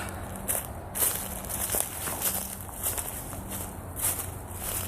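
Steady footsteps crunching over leaf litter and twigs near the ruins of the Cross Florida Barge Canal, close and continuous, with faint traffic hum from a nearby highway underneath.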